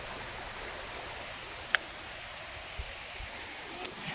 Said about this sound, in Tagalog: Narinig na natin yung ilog.